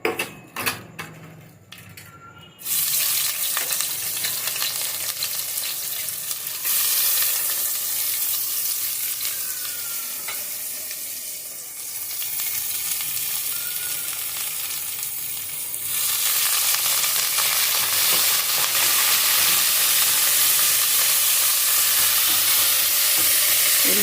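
Sliced onions and curry leaves fry in hot oil in a pan for a Telugu drumstick masala curry, giving a continuous loud sizzle with occasional scraping stirs and brief clattering, mostly free of talk.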